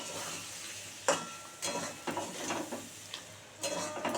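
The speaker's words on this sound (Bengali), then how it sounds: "এই যে মশলাটা দিয়ে ভালো করে এবারে নাড়াচাড়া করব" Ground masala paste being stirred with fried pointed gourd in a pan: soft sizzling under repeated scraping strokes of a spatula against the metal, in irregular bursts with a couple of sharper knocks.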